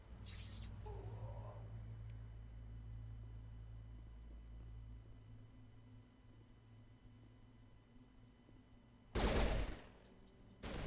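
A single sharp pistol shot in the sci-fi shooter Mass Effect breaks a long stretch of quiet game ambience near the end.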